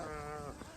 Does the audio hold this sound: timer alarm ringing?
no